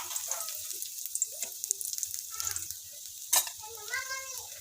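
Chopped garlic sizzles in a little oil for cabbage Manchurian, a soft, intermittent crackle broken by stirring clinks, with a brief voice near the end.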